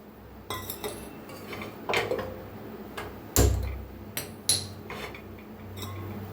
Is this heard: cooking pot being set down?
yes